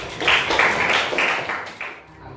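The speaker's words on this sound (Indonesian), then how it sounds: "Tepuk tangan buat kelompok 4." A short burst of classroom applause for a student group, several people clapping together near and moderately loud, fading out after about two seconds.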